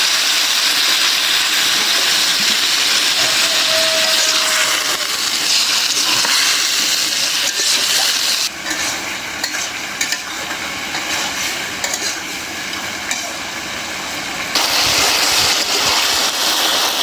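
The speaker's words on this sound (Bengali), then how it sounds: "আলুটা ভুনা করে নিলাম" Potatoes sizzle loudly while being sautéed in a pan, a dense, steady frying hiss that drops briefly midway and then returns, close up and without voices.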